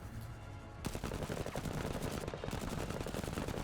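Dense, continuous machine-gun fire from the video game Menace rattles loud and close, a rapid unbroken volley that starts abruptly and keeps a fast, even rhythm to the end.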